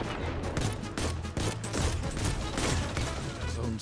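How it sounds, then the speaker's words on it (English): Rapid assault rifle fire in a video game, a dense continuous burst of sharp cracking shots close and loud throughout with no pauses. "Assault rifle. Really coming in clutch for this guy."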